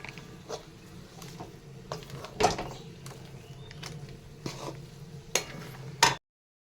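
Jackfruit seeds coated in gram flour are stir-fried dry in a pan, a faint sizzle under repeated clinks and scrapes of a spoon on metal at irregular intervals, with one sharper knock near the start and another near the end.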